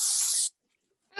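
Cooking spray bursts from an aerosol can onto a pie iron in one loud half-second hiss, followed by silence and then the start of another sound.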